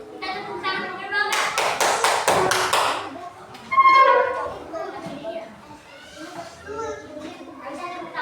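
A primary school class claps for a presenting group during a science lesson on plant parts, a short burst of rapid hand claps amid children's chatter and a teacher talking.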